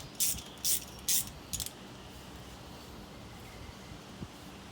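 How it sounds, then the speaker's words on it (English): A spark plug socket ratchets as a spark plug is removed, giving a few quick close clicks near the start and then near quiet. "So Mark's getting the plug out."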